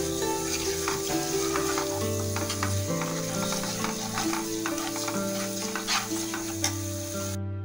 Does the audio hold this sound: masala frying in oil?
yes